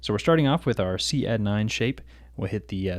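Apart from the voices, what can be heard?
No everyday noises stand out.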